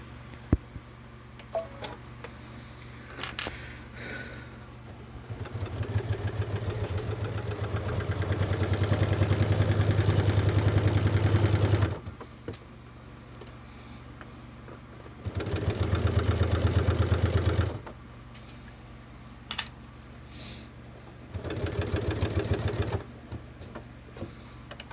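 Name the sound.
hand-cranked sewing machine stitching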